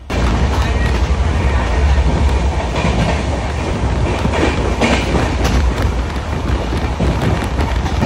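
The LTT–Kakinada Port Express runs at cruising speed through Mumbai, a loud, continuous roar of the coaches with rapid clickety-clack from the wheels and occasional sharp rattles and bangs, all heard from close inside the train.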